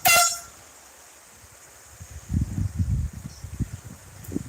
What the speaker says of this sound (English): Yeah, it's an air horn.